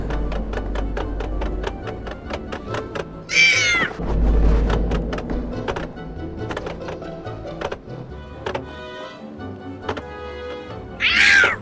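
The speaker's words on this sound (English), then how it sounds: "Though, knowing Snowy, I'll have to wait for him to catch the cat first" A cartoon cat in the Tintin Cigars of the Pharaoh video game lets out two loud, drawn-out meows several seconds apart, over busy game sound effects and clicking.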